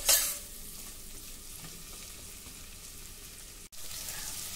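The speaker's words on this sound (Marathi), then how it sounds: "1/2 ते 1 मिनिटासाठी बटरमध्ये हा भोपळा देखील आपल्याला परतून घ्यायचा आहे।" Pumpkin pieces sautéing in butter in a pan for a pumpkin soup, giving a steady soft sizzle with light stirring, a brief louder burst at the start and a short gap near the end.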